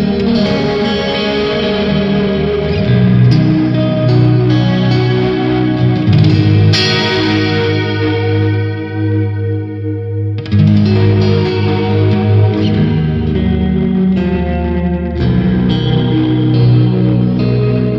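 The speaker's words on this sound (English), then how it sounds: "So this is using my Walrus Audio Fathom Reverb." Sustained electric guitar chords through a Walrus Audio Fathom reverb pedal and PRS MT15 amp ring out with a long, washy reverb tail, the notes blurring together and briefly thinning before swelling back, loud and steady throughout.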